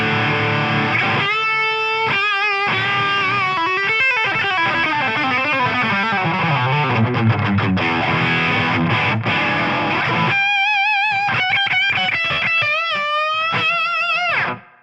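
An electric guitar plays a distorted lead line through a Tonex pedal preset, sustained and singing with bent notes and fast runs, loud and continuous for about fourteen seconds before stopping abruptly.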